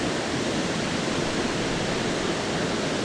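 Autumn waterfall pouring in a steady, dense broadband rush, loud and close, with strong wind mixed in outdoors and no talking.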